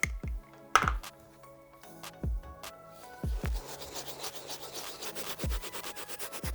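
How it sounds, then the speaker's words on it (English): Soft bristle brush with suds scrubbing a dirty Air Jordan 13 sneaker's white leather and liner in circular motions, close repeated rubbing strokes with sharp brush taps, no voices. "I'm gonna brush in a circular motion, get the suds going so I can start breaking down all the grime and dirt on the materials"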